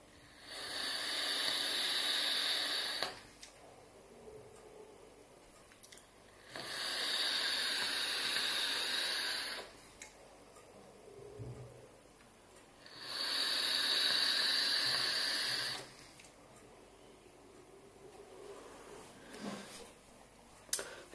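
An e-cigarette with a Griffin atomizer built at 0.36 ohms and run at 12.6 volts gives three separate hissing bursts of vapor, each lasting about three seconds, with quiet pauses between them.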